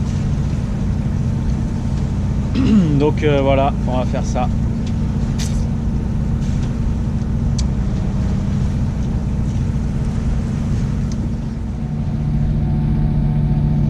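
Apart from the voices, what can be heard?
sailboat motoring under engine power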